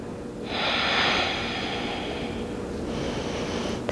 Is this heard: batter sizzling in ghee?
no